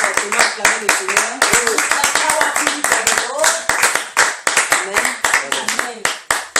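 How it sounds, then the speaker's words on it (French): A church congregation claps loudly and steadily in a fast rhythm while acclaiming the Lord. Voices cheer and call out over the clapping throughout. "Est-ce que tu peux encore fortement acclamer le Seigneur?"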